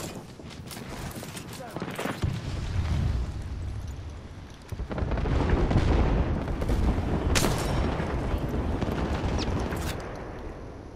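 Gunfire and a character's ultimate ability erupt in Apex Legends, a dense, loud barrage of shots and blasts running the whole stretch with a surge midway and sharp cracks near the end.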